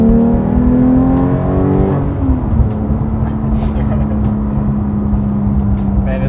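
Porsche 911 GT3 with six-speed manual, its high-revving engine wailing loudly with strong induction noise, a steady rising harmonic tone holding throughout with cabin road roar beneath and a brief shift in pitch early on.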